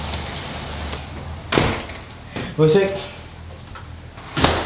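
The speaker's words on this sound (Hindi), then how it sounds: "तो पहले ये दरवाज़ा बंद कर देता हूँ।" A door swung shut indoors, closed before heavy rain arrives, giving several close knocks and a latching clunk with some rattle, then a final thud; someone talks over parts of it.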